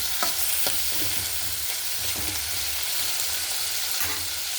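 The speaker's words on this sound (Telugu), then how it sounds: "టమాటో కూడా యాడ్ చేసుకున్నాం. ఇవన్నీ సాఫ్ట్గా మగ్గిపోవాలండి." Tomatoes and vegetables sautéing in oil in a pan for puri curry, a steady close sizzle broken by the scrape and clatter of a spoon stirring in irregular strokes.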